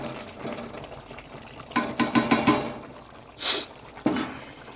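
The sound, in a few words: milky chicken curry boiling in the pot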